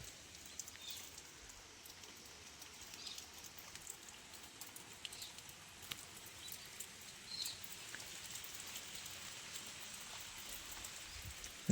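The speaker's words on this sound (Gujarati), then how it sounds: "આમ જોવો તમે વરસાદ પડી અત્યારે" Rain keeps falling over a farm field after an all-night downpour, a faint, even patter that spreads across the whole stretch with scattered soft drips and no voices.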